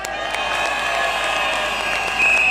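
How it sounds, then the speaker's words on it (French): A crowd at an outdoor street protest in Versailles applauds and cheers for the French army, a steady wash of clapping and voices that swells slightly near the end. "je vous demande d'applaudir notre armée française."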